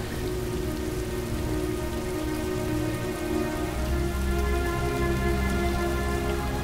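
Steady rain pours throughout in the video game Heavy Rain, a constant dense hiss with a low rumble beneath, loud and even with no voices.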